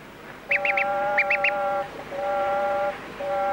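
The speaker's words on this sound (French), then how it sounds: "Deuxième canard." Nasal, duck-like quacking: a quick run of three quacks, a short pause, then three more, over a drawn-out honking tone, with no one talking.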